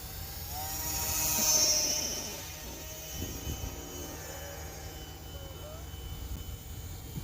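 Small Eachine Mini P-47 Razorback RC plane, a 500mm ready-to-fly model, whines past with a thin high motor tone that swells as it passes around the second mark, then eases back to a steady distant buzz under outdoor background noise.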